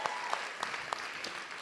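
Audience applause fills an evening event hall, steady and dense with occasional sharper claps, at a moderate level and continuing without talk.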